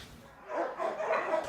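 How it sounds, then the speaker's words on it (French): A young boxer and border collie cross dog at an animal shelter whimpers and yips in a run of short, moderately loud whining calls. "Voici Gulliver, né de l'amour d'une maman boxeur et d'un papa border collie de passage."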